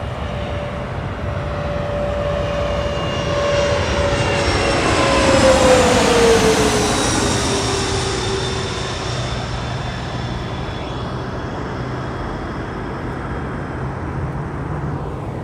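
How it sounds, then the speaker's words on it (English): A United CRJ 200 regional jet passes over near LAX, its engine whine sliding downward in pitch as the rumble builds to a peak midway, then fades into a steady distant drone. "CRJ 200, smallest aircraft in United's fleet"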